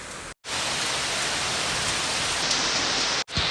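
Heavy rain pours down in a dense, steady hiss, with two very brief dropouts in the sound.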